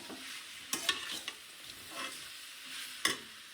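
Greens (keerai) being sautéed and stirred in a pan, with a soft steady sizzle and a few sharp scraping clacks of a spatula spaced across the stretch, fairly quiet and with no talking.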